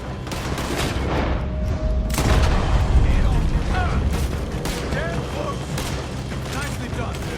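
Gunfire crackles through a robbery in the western video game Red Dead Redemption, dense overlapping shots and booms layered under game character voices and background score.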